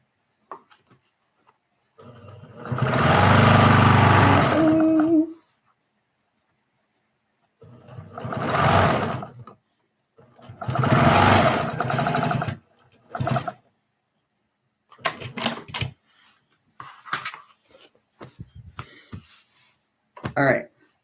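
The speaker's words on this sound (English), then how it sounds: "So I sewed it around." A sewing machine stitches around the seam of a homemade reading pillow in three loud bursts of running motor, with pauses between, followed by softer handling noises.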